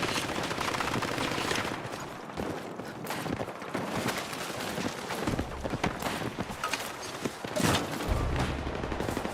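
Video game gunfire, rapid bursts of shots in quick succession over a busy, loud background of game noise, continuing in clusters across the stretch with no talk.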